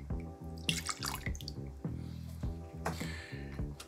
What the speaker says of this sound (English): in our cocktail shaker, we're gonna pour 1 ounce or 30 mils of Mr. Black cold brew coffee liqueur.